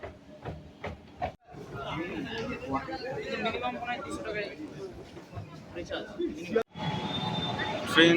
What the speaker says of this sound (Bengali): আর এই হচ্ছে স্টেশনের অবস্থা।